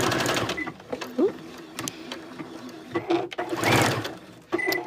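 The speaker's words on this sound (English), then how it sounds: "Again, just back stitching over the seam." A sewing machine back stitches over the seam of a boxy bag in short whirring bursts, with a voice talking over and between the runs.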